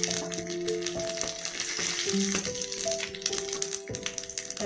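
Bay leaf, cumin and dried chilli crackle and sizzle steadily in hot mustard oil in a kadai, a close, continuous frying hiss with small pops throughout, over faint background tones.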